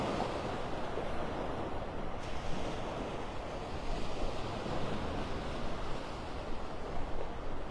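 Surf washes continuously onto Pelican Bay Beach in North Naples, Florida, on a cloudy morning, a broad steady roar of breaking waves mixed with wind buffeting the microphone.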